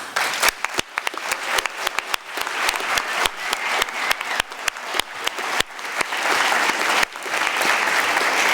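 Audience applause at a National Honor Society fall induction ceremony for new inductees, steady clapping from a seated crowd with sharp individual claps standing out, sustained for the whole stretch.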